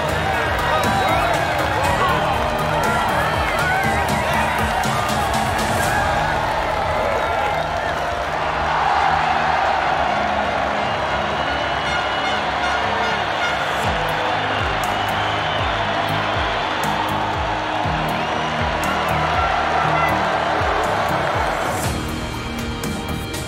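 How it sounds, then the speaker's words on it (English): Crowd cheering and applause after a race in MotoGP 20 career mode, a dense, continuous wash of crowd noise and clapping at high level throughout, with a commentator speaking over it. "The applause from the team and fans is definitely deserved."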